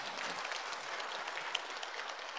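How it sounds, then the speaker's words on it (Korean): A church congregation at a Sunday morning worship service applauds briefly to welcome a visiting Democratic Party official, with soft, steady clapping that sounds somewhat distant. "우리 잠깐 박수로 환영하겠습니다."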